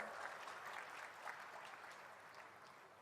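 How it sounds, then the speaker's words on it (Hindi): Crowd applause at a farmers' agricultural fair, with dense steady clapping from a large gathering, moderately distant and unbroken through the clip. "एक बार जोरदार ताली हो जाएगी।"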